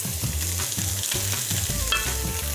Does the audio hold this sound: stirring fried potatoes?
yes